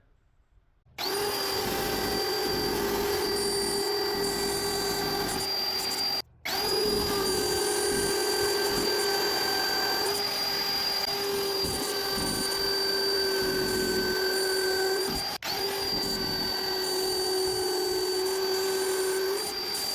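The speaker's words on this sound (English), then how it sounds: "let's pop the router, same depth remember, onto our wood, and let's just route out the framing side of things." A power router cuts a shallow frame outline into fencing wood, a loud steady high-pitched whine held for most of the stretch, dropping out briefly twice before resuming.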